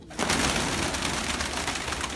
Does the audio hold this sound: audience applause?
no